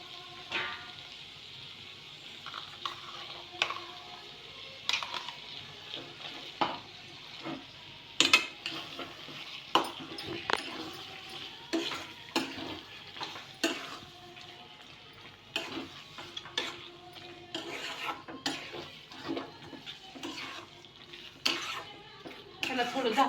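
Onion paste added to cooked chicken masala in a pan sizzles softly at close range, broken by frequent clinks and scrapes of a spoon against the pan and a few sharper knocks.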